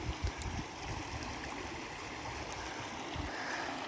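A shallow river riffle runs over exposed rocks, a steady broadband rush and trickle of flowing water, moderately quiet and continuous with no talking.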